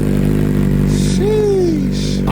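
A Suzuki Hayabusa motorcycle engine runs with a steady, loud rumble close by, swelling briefly into one rev before settling back.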